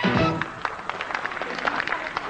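Studio audience applause on a 1980s French afternoon television show, a dense continuous patter of clapping, loudest at the start and then steady, with no talk over it.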